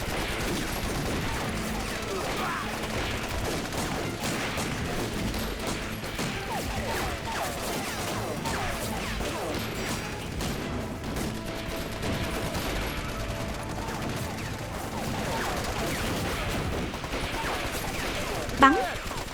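Battle gunfire in a war film about fighting the Japanese during a night ambush, with steady, dense shooting and crashes under shouted commands and voices through the whole stretch.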